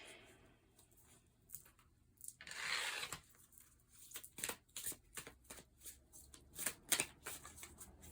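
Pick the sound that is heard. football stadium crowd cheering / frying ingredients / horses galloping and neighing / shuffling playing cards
shuffling playing cards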